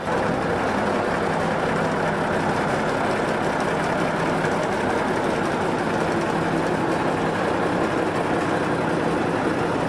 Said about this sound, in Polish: Peter Erk uruchamia swoją lokomotywę V10C